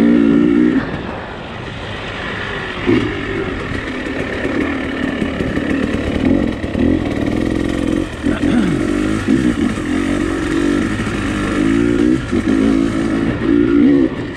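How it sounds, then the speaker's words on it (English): A dirt bike engine growls loudly up close while ridden in a tall gear, with a lugging, low-revving note that rises and falls with throttle bursts throughout. "If you're listening to the motor, you'll notice I run a tall gear."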